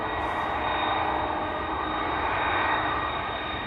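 A KLM jet airliner departs Amsterdam Schiphol Airport on a Frankfurt-bound flight, its engines giving a loud, steady roar that fills the whole stretch without letup.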